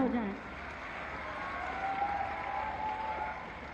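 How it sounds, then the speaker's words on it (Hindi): Sustained, even applause from an audience at an official ceremony marking the Kakori rail action anniversary, a steady wash of many hands at a moderate distance with no breaks. "डाक विभाग के इस प्रयास के लिए एक बार तालियां हो जाएं।"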